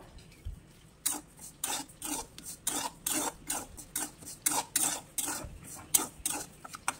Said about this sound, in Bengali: শুকনো কড়াইয়ের মধ্যে সুজিটা একটু ভেজে নেব